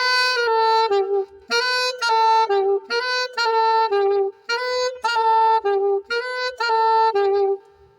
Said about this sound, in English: Trilling technique have like trilling on a note